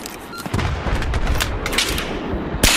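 Battlefield 3 multiplayer gunfire on PS3, a run of sharp shots and cracks over about two seconds with a loud, bright blast at the end, fairly close amid background game noise.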